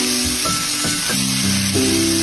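Sambal being fried for boiled ipun, a loud, close, continuous sizzle and hiss of hot oil with soft stirring scrapes breaking through at intervals.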